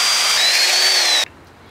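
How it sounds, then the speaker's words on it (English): A power drill bores a hole through a PVC cap clamped in a vise, a loud high-pitched whine held steady for just over a second before cutting off abruptly. "Place that cap or pipe in the vise and then just drill away."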